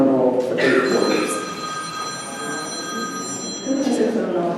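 A mobile phone rings during a school board meeting, an electronic ringtone with repeated tonal bursts at the start and again near the end, steady over room noise and murmuring voices.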